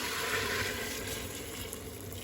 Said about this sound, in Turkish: Şimdi de kaynar suyunu ilave ediyorum.